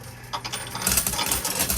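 Coins clink and rattle as a pusher shoves them along, the metallic jangle thickening and growing louder halfway through.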